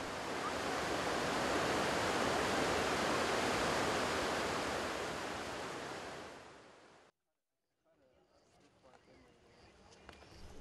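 Iguazu Falls roars as a dense, loud, steady wash of falling water that cuts off abruptly after about seven seconds, followed by a much quieter outdoor ambience.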